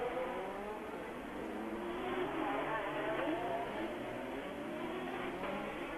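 Formula 1 cars of 1986 racing through Monaco's streets at the Grand Prix, a steady high engine whine holding throughout with faint shifts in pitch, moderately distant and continuous.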